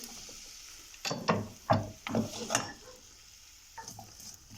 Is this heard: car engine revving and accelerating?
no